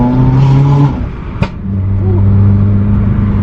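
Subaru WRX engine with tuned throttle response revving up and holding a steady drone, a brief sharp blip in the middle, loud and close.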